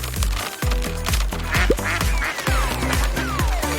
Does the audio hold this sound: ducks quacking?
yes